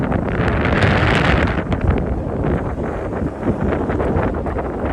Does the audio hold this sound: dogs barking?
no